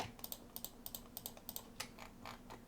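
Clicks and taps on a computer keyboard while selecting files, a quiet irregular run of a dozen or so crisp keystrokes heard close-up with no talk.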